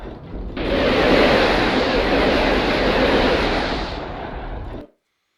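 LRM missiles launching from a Highlander IIC mech in the video game MechWarrior Online: a loud, continuous roaring rush of launches lasting several seconds, then an abrupt cutoff into silence.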